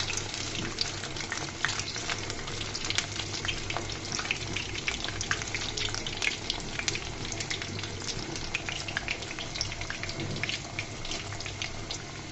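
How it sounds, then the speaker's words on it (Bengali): A snack made from boiled potato and flour dough frying in hot oil, giving a continuous loud bubbling sizzle with scattered crackles and pops throughout, and no voices. "দেখো বন্ধুরা আমার নাস্তাটা ভাজা হয়ে গিয়েছে, আমি উঠিয়ে নিচ্ছি তেলটা ছেড়ে।"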